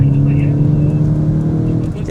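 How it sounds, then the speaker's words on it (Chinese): A car, likely a Volkswagen Tiguan, brakes hard on a cold, wet test track on Continental UltraContact UX7 tyres, with a loud, close engine drone holding steady throughout. "这个湿地刹车表现一流啊"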